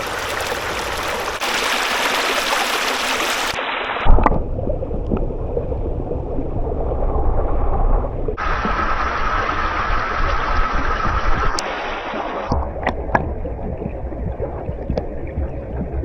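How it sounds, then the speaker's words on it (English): Steady rushing water of a flowing river, a continuous broadband wash that shifts abruptly in level a few times, with no voices. "the only noise that you're hearing is for that river"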